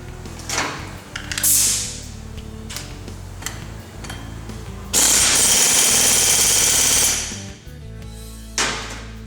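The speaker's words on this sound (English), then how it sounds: "Now once we get this axle nut tightened down" An ATV axle nut being tightened down during CV boot replacement in a shop, with bursts of rapid mechanical rattling and clicking from a power tool, one long loud burst in the middle and shorter ones around it.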